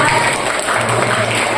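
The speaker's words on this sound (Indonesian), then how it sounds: "Oke, kita beri tepuk hebat untuk Anda." Seminar audience breaking into steady applause, dense continuous clapping from a crowd filling the room, loud and close with no pause.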